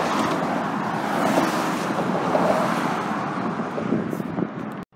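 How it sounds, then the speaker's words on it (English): Water rushing through an operating drainage structure under a fenced bridge in Pasco, a steady broadband roar close by with wind buffeting the microphone, ending abruptly. "I actually hear water rushing through this thing."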